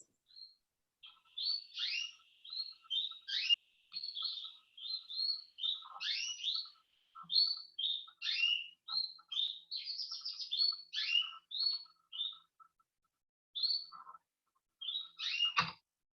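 Small songbirds chirp and trill in quick, busy phrases almost continuously, fairly close and clear over a quiet background.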